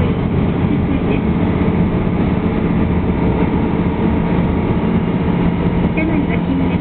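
A steady, loud rumble of an Asa Kaigan Railway one-man train running between Kaifu and Shishikui, heard from inside the carriage, with continuous rolling wheel and engine noise and faint announcement voice underneath.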